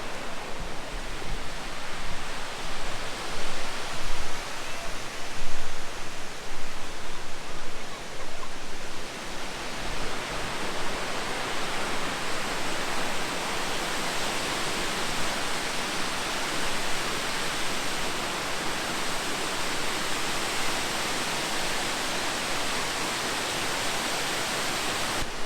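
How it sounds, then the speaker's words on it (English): A big waterfall roars as a constant broad hiss of falling water, loud and close, steady throughout with no talk. "big waterfall is right over here."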